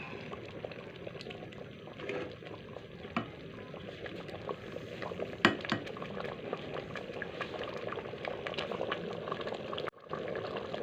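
Soft bubbling and sizzling of a pot of masoor lentils with green chillies simmering as the water cooks off, with small pops and crackles scattered throughout, fairly quiet and close.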